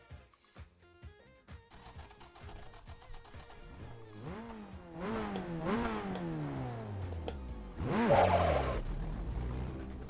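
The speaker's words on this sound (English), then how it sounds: "car sounds like a tractor." Race car engine in the sim racing game RaceRoom, with a rough, tractor-like tone, revving and shifting through rising and falling sweeps, growing louder and busier toward the end with a loud burst near the finish.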